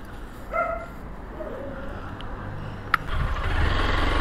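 A dog barks a couple of short yips near the start, then faint whimpering follows, heard outdoors at night against a low traffic and engine hum that swells toward the end.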